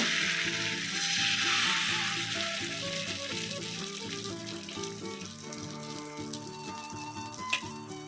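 Patishapta batter sizzles steadily on an oiled tawa, a loud, close hiss that eases slightly over time and ends with a brief clink near the end.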